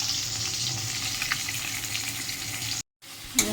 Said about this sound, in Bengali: যে মাছগুলো ভাজা হচ্ছে এগুলো সব রেখে দেবো